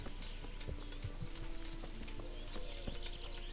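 Horse hooves clip-clopping at a walk in the medieval video game Kingdom Come Deliverance, a soft irregular series of clops under a quiet game ambience.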